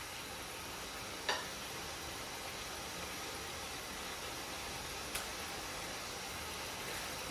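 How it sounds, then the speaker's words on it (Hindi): Chicken fries in a pan with ginger garlic paste, a soft steady sizzle with a couple of brief clinks from stirring, fairly quiet and with no talk. "और इसको अच्छे से मिक्स करें और थोड़ा फ्राई करें।"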